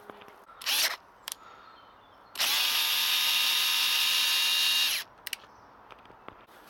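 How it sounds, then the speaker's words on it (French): An electric screwdriver backs out Torx screws on the headlight of a Zero S electric motorcycle, with two short whirring bursts and then one long steady whine, followed by faint clicks. "j'ai déjà commencé à desserrer les deux vis en bas"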